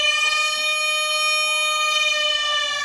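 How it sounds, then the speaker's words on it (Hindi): A steady, loud war warning siren during a civil defence mock drill in India holds a constant tone rich in overtones, droning without pause and with no talking over it. "ये युद्ध का सायरन बजा है"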